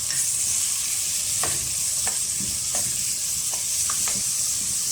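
Onion frying in hot oil for homemade fried rice, a loud constant sizzle and hiss with spatula scrapes and stirring knocks every second or so, close and continuous with no talking.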